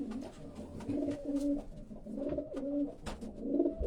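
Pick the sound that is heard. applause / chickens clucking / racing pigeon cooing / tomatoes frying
racing pigeon cooing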